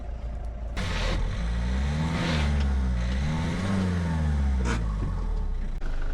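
A car engine revs hard while stuck in soft, muddy forest ground after a flat tyre, a loud sustained roar with rising and falling pitch across several seconds of throttle, close and continuous, with no talk over it.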